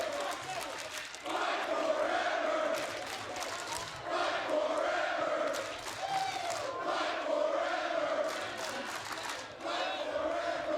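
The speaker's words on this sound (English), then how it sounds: "Much to the chagrin of the crowd, chanting fight forever" A wrestling crowd at a TNA match chants in loud, steady rhythmic waves of voices that swell and repeat throughout, filling the arena with a continuous roar.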